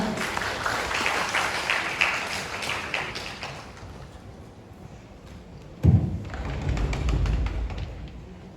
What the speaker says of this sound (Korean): 큰 박수 맞이해 주시기 바랍니다.